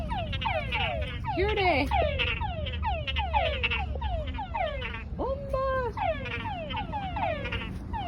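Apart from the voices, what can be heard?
frogs croaking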